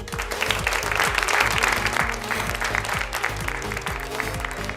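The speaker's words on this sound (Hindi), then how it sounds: "राधेश्याम जी के लिए जोरदार तालियां हो जाए" Loud, sustained audience applause fills a textile fair hall, with steady dense clapping throughout and a deep rhythmic music beat running underneath.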